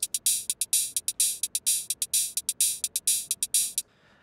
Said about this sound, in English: it sounds like this with the high pass filter